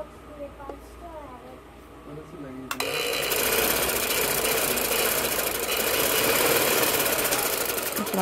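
A sewing machine stitches a ladies' kurti fabric, starting after a moment of quieter handling and then running in a loud, continuous rapid clatter up close, with a voice faintly audible before it starts.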